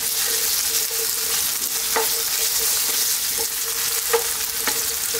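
Potatoes frying in a pan over lively heat, a loud continuous sizzle with a few soft stirring clicks, close up with no talk.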